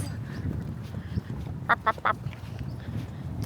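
A duck on Loch Long gives three quick, loud, nasal quacks in a row, standing out above a low background murmur of wind and water.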